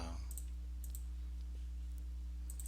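A few faint computer mouse clicks, sharp and separate, sit over a steady low electrical hum, with no talk.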